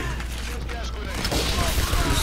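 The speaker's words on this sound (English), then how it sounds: "Stupid gas grenades." Gas grenades and gunfire burst in a video game shooter, a dense, continuous rumbling fusillade of loud blasts running through the whole moment with voices talking over it.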